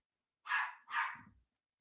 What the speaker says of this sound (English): I have no idea why my dog is going that crazy.